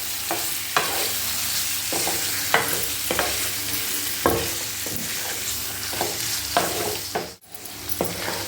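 Liver and petha being sautéed in an oily masala paste, with a steady sizzle broken by regular scraping strokes of a spoon against the pan, close and fairly loud, and a brief sharp knock near the end.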